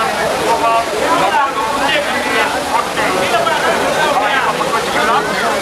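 Water crashes steadily at Kuttalam waterfall in Tenkasi, a dense, unbroken roar close by that fills the whole stretch, with voices of people nearby talking over it.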